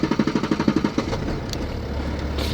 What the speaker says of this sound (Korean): 여기 시동을 딱 누르면